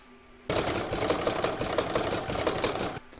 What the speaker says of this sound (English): I'm going to stitch around number 7, which is going to do this join.